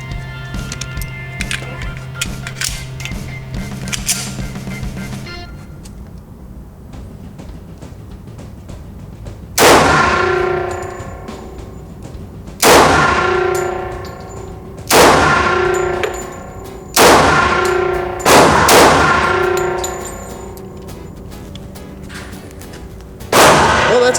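A 1911 pistol fitted with a compensated roto barrel fires five 230 grain rounds, five sharp loud bangs spaced a few seconds apart, each with a ringing metallic tail, after a stretch of quieter background noise.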